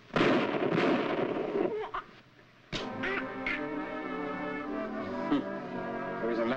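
Gunshots in a radio drama crack out twice, a sharp blast early on and another after a brief lull, over a dense bed of music and background noise.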